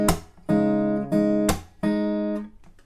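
Acoustic guitar plays the chorus riff of a song, a few plucked chord hits with short gaps, close and clear, no voices.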